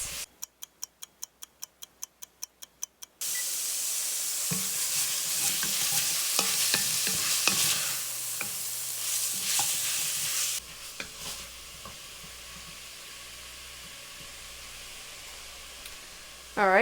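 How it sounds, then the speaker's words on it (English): Ground beef for chili browning in a pan, a steady frying sizzle with scraping stirs, opening with a run of rhythmic ticking clicks before the sizzle takes over, then dropping quieter near the end. "Make sure all the hamburger gets cooked and browned"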